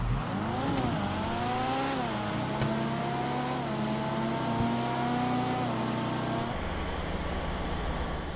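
A racing car in the GTA 5 video game revs hard and holds a loud, steady engine drone, pitch sweeping up and down through gear changes, with a sharp shift near the end and no talk.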